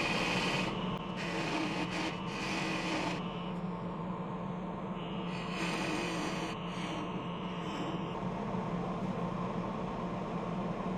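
A wood lathe hums steadily while a tool shapes the knob on top of a wooden bowl lid, with bursts of hissing cutting noise that start and stop across the span.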